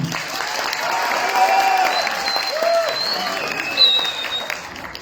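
Audience applause at a book presentation at UPEA in El Alto, Bolivia: steady clapping across the whole span, with voices mixed in and a few faint whistles.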